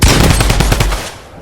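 Rapid automatic gunfire from the video game Fortnite, a loud close burst of repeated shots in quick rhythm lasting about a second before trailing off.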